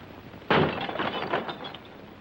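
Glass window pane smashed with a hammer: one sharp, loud crash at once, then a second of tinkling, scattering shards falling and settling.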